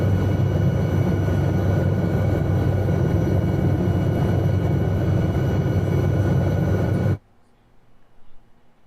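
A helicopter flies over Moorea in French Polynesia in the Microsoft Flight Simulator game, its engine and rotors making a loud, steady, close drone that cuts off abruptly near the end, leaving faint low sound.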